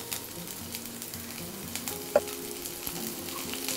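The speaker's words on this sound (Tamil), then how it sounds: "இதை இப்போ நம்ம எண்ணெயில் சேர்த்து வதக்கலாம்" Bell pepper pieces, cut small, sautéing in hot oil for chicken fajita rice, giving a steady soft sizzle with faint scrapes and one sharp tap, no voices.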